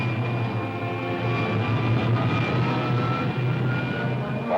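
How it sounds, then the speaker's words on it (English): Steady, loud rocket pilot jet firing with a continuous engine-like roar and droning hum throughout, a retro sci-fi effect with no voices. "Fire pilot jet. Fire pilot jet."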